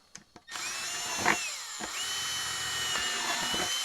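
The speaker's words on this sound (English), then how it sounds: "I'm drilling holes in a bucket" A power drill whines steadily at close range after a couple of clicks, its pitch dipping briefly as the bit bites through a plastic bucket.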